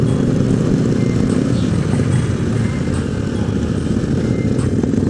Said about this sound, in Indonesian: Ada motor Pak Pol.